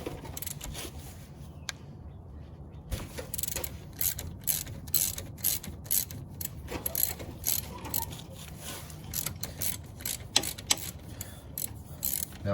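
A ratchet loosening bolts on a Mazda3 front brake: close, busy clicking and metallic ticking strokes in irregular bursts, with faint clanks in a garage setting and no voices.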